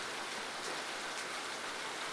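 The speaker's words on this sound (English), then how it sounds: "That subtle and comforting sound as the tiny droplets fall from the heavens to end up colliding with the ground." Steady rain falling and droplets striking the ground, an even, dense hiss of fine patter with no pauses, moderately soft and continuous, heard alone.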